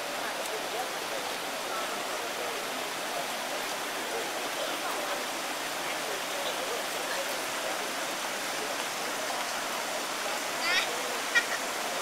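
Cold spring water at Caesarea Philippi flows steadily, a continuous broad rushing and babbling that stays even throughout with no voices.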